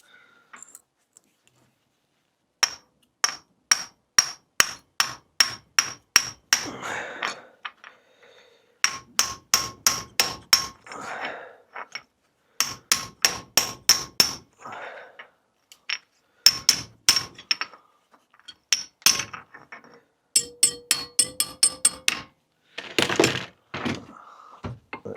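Hammer striking a metal repair panel held in a vise to form a fold, in rapid sharp ringing blows grouped into several runs of about ten strikes, close and clear, with short pauses and handling clunks between runs.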